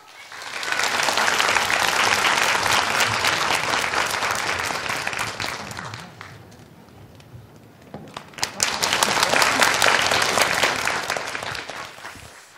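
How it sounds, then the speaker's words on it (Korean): An audience at a university admissions information session applauds to welcome a lecturer, with loud continuous clapping that dips briefly to scattered claps midway before swelling again and fading out. "여러분 큰 박수로 환영해 주세요."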